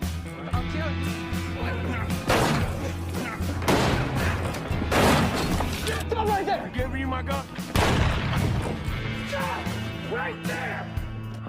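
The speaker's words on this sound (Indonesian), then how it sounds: "Lalu terjadilah pertarungan tembak ala cowboy." Gunfire in a cowboy film shootout, several sharp shots and crashing impacts scattered through a busy soundtrack, with voices talking throughout and a tense backing score.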